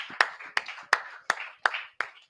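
Students in a classroom clap in a slow, steady rhythm of about seven sharp, evenly spaced claps, close and distinct with no talk over them.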